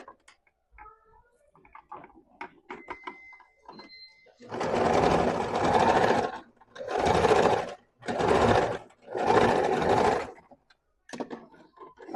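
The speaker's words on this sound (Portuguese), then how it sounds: "vamos fazer uma bainha de mais ou menos meio centímetro, dobra 2 vezes e passa a costura" A sewing machine stitches a fabric hem folded twice, four close bursts of fast whirring motor and needle separated by short pauses, preceded by quieter handling clicks.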